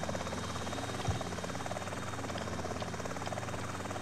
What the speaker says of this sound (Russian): Бери вертолет и не парься.